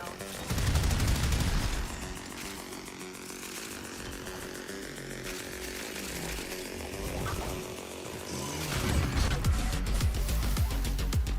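Warframe gunfire hammers on continuously in dense, rapid bursts, loud and harsh, with the heaviest fire at the start and again near the end.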